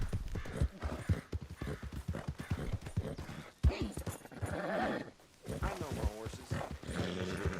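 A horse in the Red Dead Online video game clip-clops along in a rapid steady hoofbeat rhythm, a whinny rising briefly, with a voice talking over the gallop.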